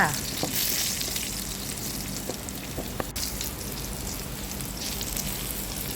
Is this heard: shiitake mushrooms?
yes